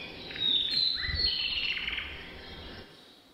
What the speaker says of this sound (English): This bird here singing